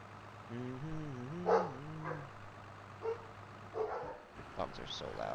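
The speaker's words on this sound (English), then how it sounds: "Dogs are so loud." Dogs barking in the Farming Simulator 22 video game: a few short barks and yips rise over a steady low engine hum, with brief bursts of talk later.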